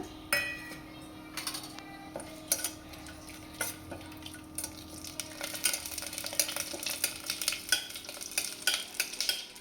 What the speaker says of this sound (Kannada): ತುಪ್ಪನ ಅದಕ್ಕೆ ಆ್ಯಡ್ ಮಾಡೋಣ ಈಗ ಇದಕ್ಕೆ ಮೊದಲೇ ತೋರಿಸಿದ್ವಲ್ಲ ಅಷ್ಟು ಸ್ಪೈಸಸ್ನ ಆ್ಯಡ್ ಮಾಡಿ ನೀಟಾಗಿ ಫ್ರೈ ಮಾಡ್ಕೊಳ್ಳೋಣ